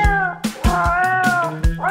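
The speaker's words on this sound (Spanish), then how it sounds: "¡El gato!" A cat meows repeatedly in a children's animal-sounds quiz, several loud, close, drawn-out meows in quick succession with a slightly whiny, wavering tone.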